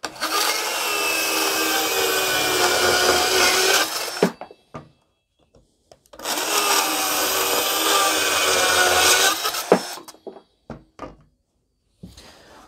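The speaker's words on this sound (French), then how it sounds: "une démonstration de cette scie circulaire avec du bois de palette" A Bosch Pro GKS 12V-26 cordless 12V circular saw cuts through pallet wood in two loud, close bursts of about four seconds each, the high whine and rasp of the blade stopping abruptly, with short clatters and thunks between and after the cuts.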